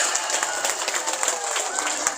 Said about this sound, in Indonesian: Berikan tepuk tangan yang meriah buat Pak Samsir.